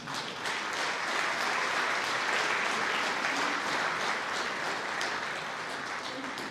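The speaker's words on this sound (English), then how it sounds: "How about a great round of applause for this?" Steady, dense applause from an audience honoring soccer club Wall of Fame inductees fills the hall, holding at an even level throughout.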